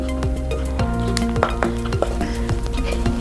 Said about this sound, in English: Now I'm going to use my wooden spatula to mix